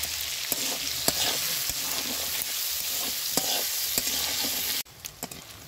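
Prawns frying in hot oil for a Bengali dish with taro stems and potatoes, a steady close crackling sizzle with sharp pops throughout, easing off slightly near the end.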